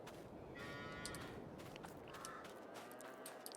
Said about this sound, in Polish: Tutaj jest obora z krowami.